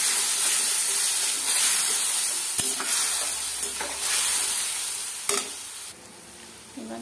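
Fried tomato being stirred with ginger-garlic paste in a pan, a continuous bright sizzle with scraping strokes of the spoon and a few sharp knocks against the pan, close and alone.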